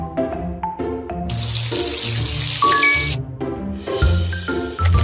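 Running water from a tap fills a baby's bath in a cartoon kids' care game, a steady gushing stream under bright game music with chiming notes.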